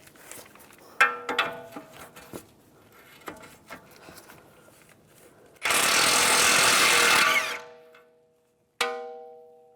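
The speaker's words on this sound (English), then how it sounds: "Now I'm going to take a 22mm socket, take this nut off." An impact wrench spins a 22mm socket to remove the outer tie rod nut on a 2004-2010 BMW X3, giving a loud, steady burst of about three seconds after scattered tool clinks, then a short ringing clank.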